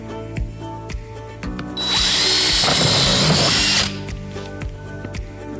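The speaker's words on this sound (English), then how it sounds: "Now drill a small pilot hole." A power drill whirs steadily for about two seconds at close range, drilling a small pilot hole for mounting window shutters, with light tapping and clicking before and after.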